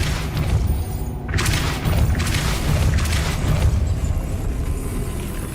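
The Depulso force spell in Hogwarts Legacy lands as a heavy, booming whoosh over a deep rumble, with a couple of bright crackling bursts near the start, loud and close.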